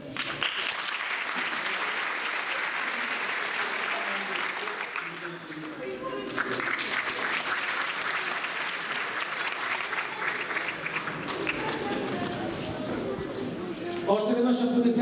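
A crowd at a Christmas award ceremony applauds loudly and continuously, dense clapping with some voices speaking over it, a brief dip midway and a swell near the end.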